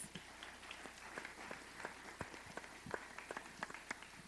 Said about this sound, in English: So everyone here, a round of applause for our panelists